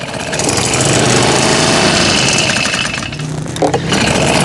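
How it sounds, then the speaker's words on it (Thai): A small four-stroke GX35 engine on a fertilizer sprayer runs loud and close, a continuous buzzing chatter with a slight dip in pitch near the end. "โอเคเครื่องยนต์สตาร์ทติดง่ายนะ"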